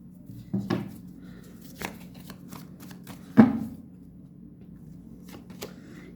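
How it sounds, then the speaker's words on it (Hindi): Tarot cards being shuffled by hand in a few separate riffling bursts, close and crisp against a quiet room, with short pauses between handfuls and no speech. "कुछ लोग बोलते हैं कि आप कार्ड बहुत ज़्यादा शफल करते हो, तो करना पड़ता है"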